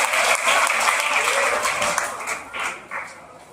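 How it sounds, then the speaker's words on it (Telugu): An audience at a public gathering claps together in a loud, dense burst of applause that holds steady, then thins and tapers off over a few seconds. "ఒక్కసారి చప్పట్లు."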